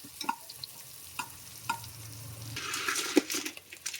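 Chopped onion frying in a pan as the tempering for a Malnad-style crab dish, a soft sizzle punctuated by several spatula taps and stirring clicks, close and fairly quiet with no speech.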